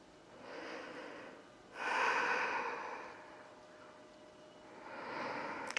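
Slow, audible breaths drawn in and let out through the nose and mouth during a hip-opening yoga stretch, close and fairly quiet, with one stronger exhale in the middle and a softer one at the end.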